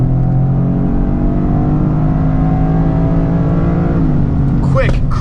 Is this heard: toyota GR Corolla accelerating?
yes